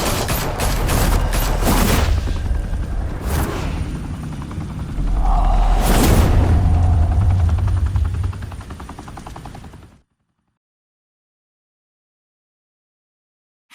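Sustained automatic gunfire in Batman: The Telltale Series, dense loud rattling bursts with rumbling booms that run for about ten seconds before cutting to silence.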